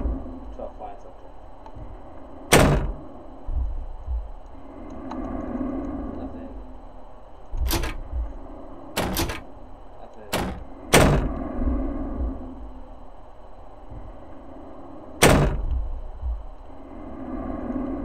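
A secret door in the video game Ao Oni opens with a series of sharp, loud knocks and slams spread across the scene, separated by quieter stretches where a voice talks.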